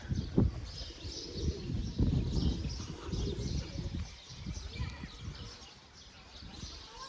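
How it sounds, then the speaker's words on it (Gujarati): Pigeons cooing and fluttering nearby, soft low murmurs and wing rustles under a faint background of voices. "ઉડાડી લીધા આપણે કબૂતરને"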